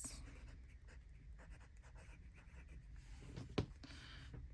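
A fountain pen scratches across paper in a quiet room, faint soft strokes running steadily close up, with a brief sharp tap near the end.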